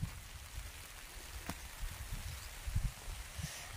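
Soft, steady patter of light rain, faint and close, with a low rumble underneath and no voices.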